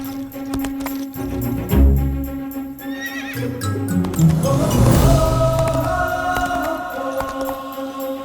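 A horse whinnies loudly and close by in a Hindi film scene, with a clip-clop of hooves and a sustained music bed running underneath throughout.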